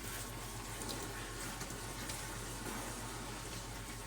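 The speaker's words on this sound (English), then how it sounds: "I'm gonna rinse it off" Vegetable pieces being rinsed under a running kitchen tap while dirt is cleaned off for a Thanksgiving dinner, a steady continuous rush of water splashing into a sink, close and even throughout with no talking.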